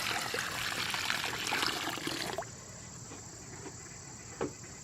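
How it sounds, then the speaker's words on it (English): A gallon of water poured into a garden planting hole for a hydrangea, a loud splashing gush that stops abruptly, leaving faint trickling and outdoor insect chirps. "So now I'm going to pour in a gallon of water and watch how the water filters out."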